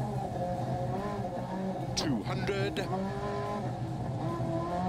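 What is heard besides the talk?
Group B rear-wheel-drive rally car engine revving, video game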